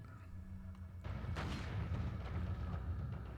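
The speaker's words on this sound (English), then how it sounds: "Oh, I just wasted a grenade." A grenade detonates in Resident Evil 4 on the Wii, first as a sharp crack and then as a heavy booming rumble that lingers and slowly fades over a steady game background.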